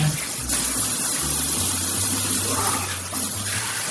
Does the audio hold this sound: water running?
yes